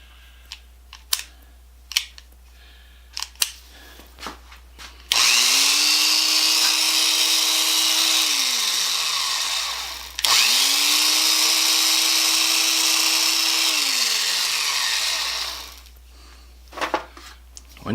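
A power drill spins up and runs at a steady high whine, winds down, then runs a second time before stopping, with clicks and taps around it.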